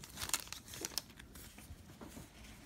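Crinkling and tearing of a foil basketball card pack wrapper as it is ripped open, a few sharp crackles close by, then softer rustling.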